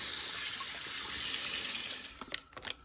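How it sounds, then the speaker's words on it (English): Cold tap water runs steadily into a sink over drained cooked pasta shells, a close continuous rush that cuts off near the end into a few splashes and drips. "just run cold water over the shells so it could stop the cooking"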